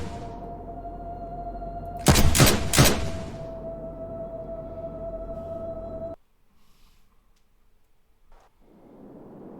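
Gunfire in the video game The Forgotten City: a quick cluster of three loud shots over a steady electronic hum, then near silence.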